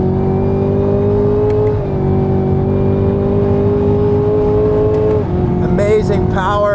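Chevrolet Camaro ZL1 1LE, a 2020 street-legal track car, pulls hard on a circuit with a loud, steady engine roar that climbs through the revs, shifts twice with brief dips, then rises again near the end.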